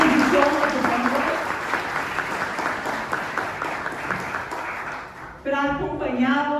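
Audience applause welcoming a professor at an academic conference on the history of synodality, a steady broadband clatter of many hands for about five seconds before a voice begins speaking at the end.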